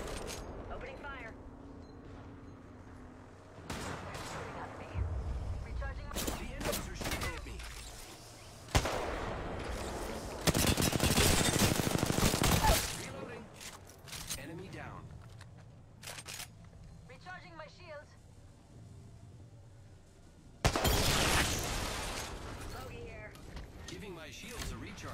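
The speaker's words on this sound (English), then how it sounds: "Opening fire." Bursts of video-game gunfire in a squad-based shooter, with loud broadband volleys and sharp shots separated by quieter stretches, mixed with in-game effects and occasional speech.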